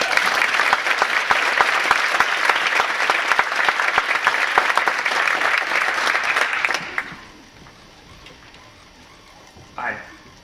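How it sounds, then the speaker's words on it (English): Audience applause at an Ignite Ann Arbor talk night welcoming speaker John Barrie, dense steady clapping for about seven seconds that then cuts off sharply, leaving a quiet room with one brief sound near the end. "Let's have a big round of applause for John Barrie."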